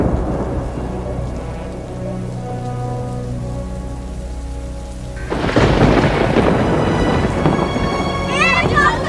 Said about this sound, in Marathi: पाऊस आला आणि मुलं आडोसा शोधू लागली.